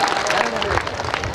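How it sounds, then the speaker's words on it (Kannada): An audience claps on request at a large RSS centenary celebration, a dense, steady patter of many hands filling the hall under a speaker's voice. "ಹೊಡೆರಿ 2 ಚಪ್ಪಾಳೆ ಆದರೆ"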